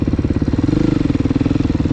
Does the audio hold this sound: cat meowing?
no